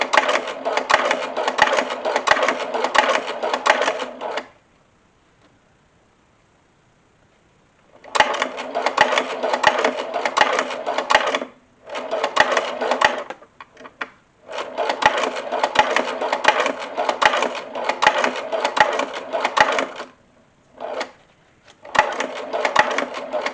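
Sewing machine stitching an alligator-hide lanyard phone case, running in several steady bursts of rapid mechanical stitching separated by short pauses, one of them a silent gap of a few seconds.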